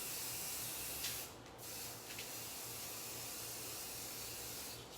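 A soft, steady hiss of spray paint is sprayed onto wood in short bursts, with a low hum running underneath and no talking.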